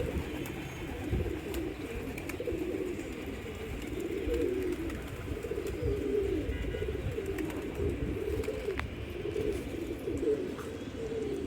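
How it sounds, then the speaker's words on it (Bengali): Domestic pigeons in a home loft coo steadily and softly throughout, a continuous low murmuring of overlapping calls with no talking. "এই যে একটা কবুতর, এটা প্রায় অনেক দিন ধরে আমার বাসায় থাকে"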